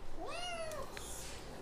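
One of six newly acquired cats gives a single clear, rising-then-falling meow at close range, followed by quiet room noise and no speech.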